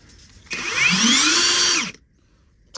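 A Hyper Tough 1/2-inch high-torque impact wrench runs in auto mode: a loud, close motor whine that ramps up in pitch, holds for about a second and a half, then winds down abruptly to silence.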